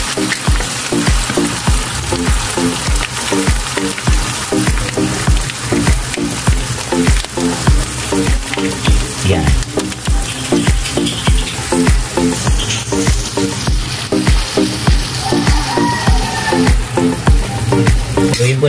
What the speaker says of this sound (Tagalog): ito ilalagay na po natin yung gata